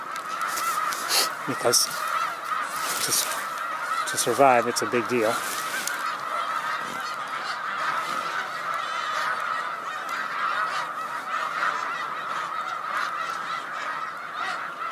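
Snow geese on Cayuga Lake give repeated honking calls, a flock chorus with some louder nearby honks, while someone speaks over the birds.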